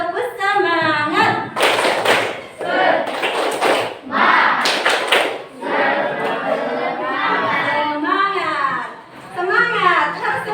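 Schoolchildren in a classroom math lesson do a rhythmic spirit clap, bursts of loud group clapping and thumps alternating with children chanting and a teacher talking nearby.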